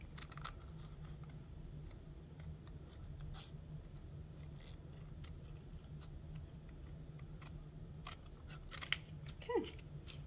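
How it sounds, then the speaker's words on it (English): Scissors snip through paper, a string of crisp close clicks and short cuts in an uneven rhythm, quiet and alone against a low steady background hum. "move your piece of paper around as you're closing, cutting with your scissors"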